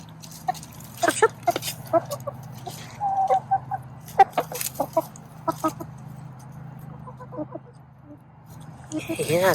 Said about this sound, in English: The chickens love it when I dig this little trench.